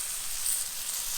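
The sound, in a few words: food sizzling on a hot griddle as it is folded with a spatula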